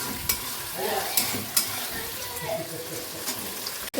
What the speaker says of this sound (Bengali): চলো এই ক্যাপসিকামটা ভেজে নিই কিছুটা